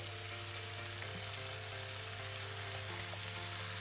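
Chicken sizzles steadily in a pan with tomato, onion and garlic, a soft, continuous frying hiss with small crackles and an occasional stir, heard alone at low volume.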